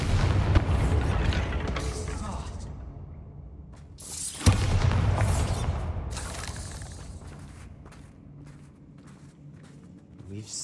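A Bombarda spell explosion in Hogwarts Legacy, heard as a sharp blast at mid-clip that rises out of a dense rumbling battle bed of booms and impacts and then fades off.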